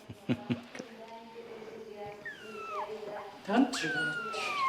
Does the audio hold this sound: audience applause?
no